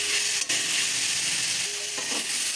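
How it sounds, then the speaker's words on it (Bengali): Spice paste (masala) fries and is stirred in a pan, a loud, steady sizzle with scraping strokes of the spoon breaking through, close and alone. "ভালো করে কষিয়ে নেব লাল লাল করে।"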